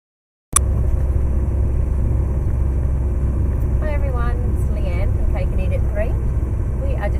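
Steady low engine and road rumble inside a car driving through Wales, continuous throughout, with brief faint vocal sounds partway through.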